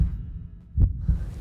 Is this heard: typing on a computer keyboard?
no